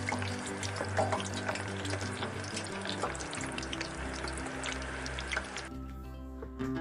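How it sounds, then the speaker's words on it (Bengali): Potatoes seasoned with turmeric and salt fry in oil with a continuous close sizzle and occasional stirring scrapes, over a low background hum, cutting off near the end. "আলুগুলোকে নেড়ে চেড়ে হালকা লাল করে ভেজে নিচ্ছি"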